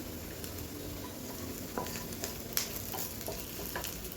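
Onion roasting in a pan, a soft steady sizzle with occasional light stirring scrapes and clicks. It is close but quiet, with no talking.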